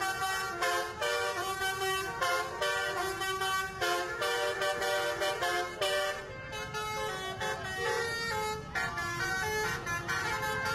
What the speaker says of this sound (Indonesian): alunan klakson telolet dari bus tersebut